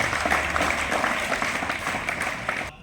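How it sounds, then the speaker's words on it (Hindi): Applause for a student at a government senior secondary school results gathering, a dense, fairly loud burst of many hands clapping that carries steadily and then cuts off abruptly. "शाबाश संकुच के लिए जोरदार ताली"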